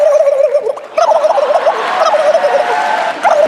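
An 11-year-old child imitates a turkey gobble on stage, a loud, close, rapid warbling burst repeated in a few quick bursts over about three seconds.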